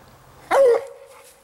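A hunting dog on a coon hunt gives one loud, close bark with a whining tail that fades into quiet.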